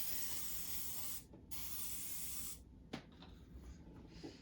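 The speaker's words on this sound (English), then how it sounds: "nice little oven safe dish and your pump spray, avocado oil" A pump sprayer mists avocado oil into an oven-safe dish in two close, quiet hissing bursts, then a few soft clinks as the dish is handled.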